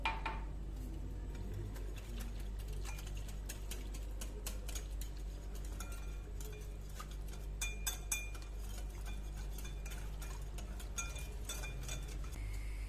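A spoon clinks repeatedly against a glass while stirring starch into a cup of water, a run of quiet, irregular taps and chinks over a low steady hum.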